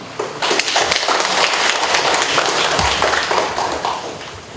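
Dense, steady applause from an audience at a community training session in Yuseong-gu, many hands clapping close and loud for several seconds.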